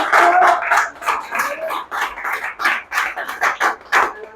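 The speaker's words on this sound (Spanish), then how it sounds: "Denles aplauso al Señor" A church congregation claps together in a steady burst, the rapid hand claps near and moderately loud with no voices over them.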